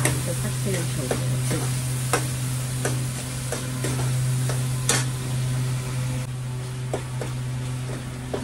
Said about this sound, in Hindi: और हम मसाले को अच्छे से भून लेंगे। जब तक ये तेल न छोड़ दे, तब तक हमें भूनना है